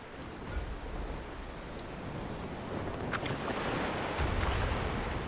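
Ocean waves wash around a sailing ship in Mount and Blade II: Bannerlord, a steady broadband surf with wind rush, constant and fairly loud throughout with swells rising near the end.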